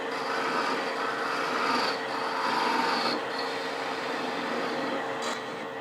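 Steady rasping scrape of a lathe tool parting off a small wooden spin top ornament, continuous and close with slight swells and brief dips, no voices.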